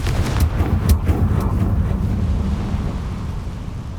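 Explosive Confringo spell blasts in the Hogwarts Legacy video game, a few sharp booming bursts over a low rumbling wash that fades into steady windy noise.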